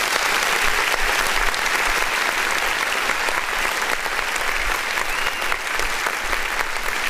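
Audience clapping for a visiting act from Africa on a music review show, a dense, steady round of applause lasting the whole stretch without letup, loud and close with a crowd murmur underneath.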